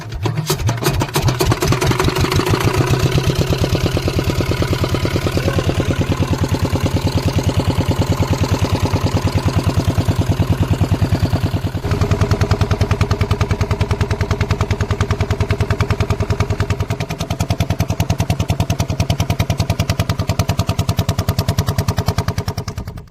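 A fishing boat's engine runs on a Sundarbans waterway, a loud, close, steady rhythmic chugging idle that holds throughout with a slight shift in tone midway and no talking over it.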